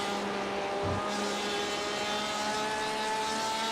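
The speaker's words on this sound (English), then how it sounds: "Love the sound of this Porsche Flat 6." A Porsche flat-six race car engine in the iRacing sim at Road America holds a loud, steady, high-revving drone with layered harmonic whine and a brief dip in pitch near the start.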